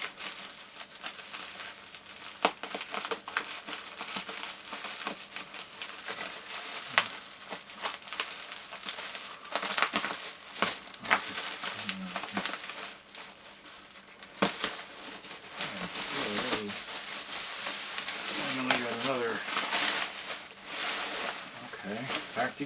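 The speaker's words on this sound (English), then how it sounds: "Packed again in bubble wrap." Continuous crinkling and rustling of bubble wrap being pulled off a packed Sanyo MR-U4GP cassette deck, close and steady with occasional sharper crackles, a voice talking over it at times.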